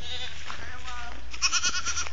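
A small goat kid bleats in short, high wavering calls near the end, after a stretch of faint background murmur and farmyard noise in Ramos, Tarlac, Philippines.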